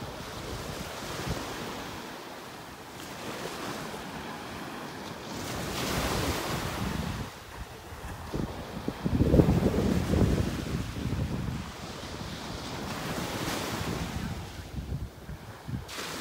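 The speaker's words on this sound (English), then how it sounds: "Just letting you enjoy the sounds of the waves here," Ocean surf rolls onto a beach in North Naples, Florida, heard as a continuous wash of breaking waves with steady wind buffeting the microphone. A louder surge swells midway before settling back to a constant roar.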